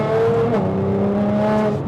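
A Nissan GT-R fitted with a Frequency Intelligence exhaust revs loudly and close by, a raspy, strongly harmonic engine note rising and falling in pitch through one continuous rev.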